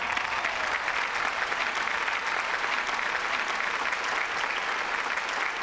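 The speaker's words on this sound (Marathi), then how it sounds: "याच्या दुप्पट टाळ्या आपण विजू मामासाठी पण वाजवूया." Studio audience at the Marathi comedy stage show Maharashtrachi HasyaJatra claps for Viju Mama, a thick, continuous burst of applause that stays evenly loud from start to finish without talk.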